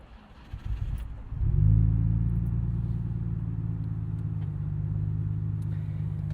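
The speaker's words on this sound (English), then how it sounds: "let's stick the key in and fire this thing up" A 1999 Nissan Skyline R34 GT-R twin-turbo engine cranks briefly, catches with a rising roar, then settles into a steady, deep, close idle rumble.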